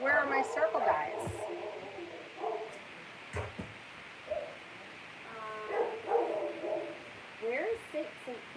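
Dogs bark and yip indoors in short bursts, then whimper, at a moderate distance during a home stamping livestream, with no clear talk in between.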